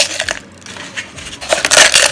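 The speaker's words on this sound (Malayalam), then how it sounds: "ഇനി നമ്മൾ ഓരോ പപ്പടമായിട്ട് പൊട്ടിച്ചിടാം" Papadums snapped by hand in a home kitchen, breaking into pieces for a mixer cup: a couple of brittle crunching cracks early, then a louder, denser burst of crackling breaks near the end, with no talk.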